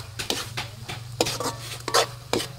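A hotdog fries in hot oil for a spaghetti dish, with a soft sizzle beneath repeated close scrapes and clinks of a utensil against the pan in an uneven rhythm, and no talking.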